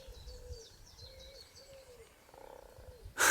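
A frog in a Northumberland vineyard gives a series of soft, regular hooting croaks, about five evenly spaced calls, faint and somewhat distant in a quiet outdoor setting, ending in a sudden loud burst of noise.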